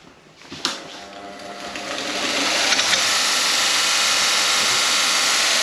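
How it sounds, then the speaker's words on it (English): Motor-driven wire wheel brushing a Ford XC panel van headlight part cleaned in a vinegar dip: a click as the motor starts, then a whine that rises and settles into a loud, steady grinding hiss with scraping bursts. "I'm just going to put that over here on the wire wheel"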